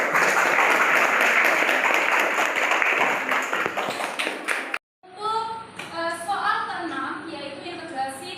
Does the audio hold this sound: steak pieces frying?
no